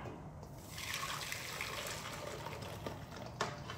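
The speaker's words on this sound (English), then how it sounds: "we're gonna put that custard now back into the pot" Thick homemade strawberry custard pours from a container back into a cooking pot, a soft continuous liquid slosh and trickle at close range with a brief scraping tap near the end, no talking.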